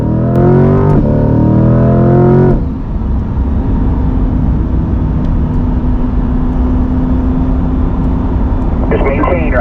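Corvette C8 on the Spring Mountain race track, its engine accelerating hard with rising revs before a quick upshift, then a steady lower drone and another surge near the end, heard from inside the car while an instructor talks over the radio.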